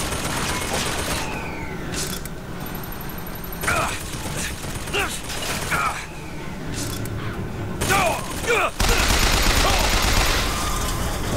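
Dense gunfire fills a BioShock Infinite battle, with rapid bursts of shots, loud booms and mechanical clatter over a constant backdrop of combat noise, while a voice speaks intermittently.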